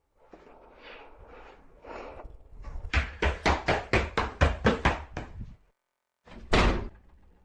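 A door bangs repeatedly in a fast, loud series of about ten knocks drawing closer, then after a brief silence slams shut with one heavy, sharp crash; muffled indistinct sounds precede the banging.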